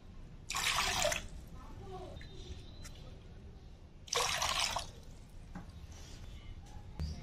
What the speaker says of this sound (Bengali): দিয়ে দিচ্ছি 3 কাপ পরিমাণে পানি।